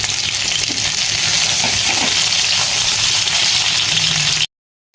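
Garlic, onion and ginger frying in hot oil in a pan, a steady close sizzle running without pause, with a few faint stirring scrapes, then the sound cuts off abruptly near the end.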